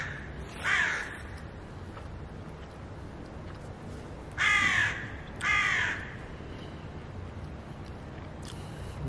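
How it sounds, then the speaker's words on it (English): A crow caws in a garden in Milan, Italy: one call, then a pause, then two harsh caws in quick succession, moderately near over a low background hum. "what is that? Some type of bird."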